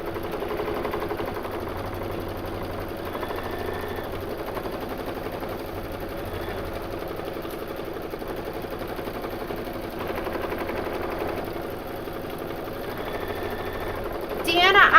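An embroidery machine runs a satin stitch on a quilt block, a steady, fast mechanical chatter that continues throughout with brief pauses, with a person talking over it.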